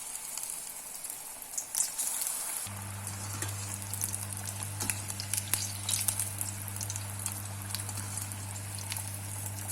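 Small onion vadas frying in hot oil over a medium flame, a steady close crackling sizzle with scattered pops, accompanied by a low constant hum of a burner or fan that starts partway through.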